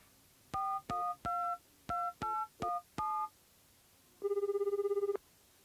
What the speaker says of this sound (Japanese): ゆかの部屋へ電話をして、30分以上もおしゃべりに夢中になっていました